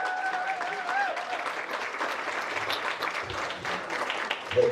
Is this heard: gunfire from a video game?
no